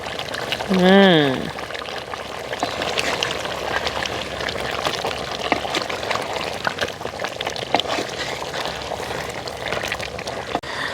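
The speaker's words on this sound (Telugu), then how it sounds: "అప్పుడప్పుడు వచ్చేసి ఇలా వేడి నీళ్ళు మనం పెట్టుకున్నాం కదా అవి పోసుకుంటా ఉండాలి" Hot water is poured into a simmering country chicken curry for Ankapur chicken, making a steady, close hiss of pouring and bubbling liquid throughout, with a brief voiced tonal sound near the start.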